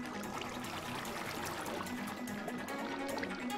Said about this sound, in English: Hey, another waterfall with a cave in it that I want to go to.